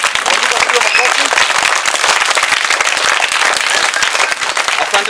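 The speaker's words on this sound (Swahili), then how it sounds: "Mpigieni makofi." An audience at a school event applauds in a dense, continuous wash of clapping that stays loud and even for the whole stretch, with some voices mixed in.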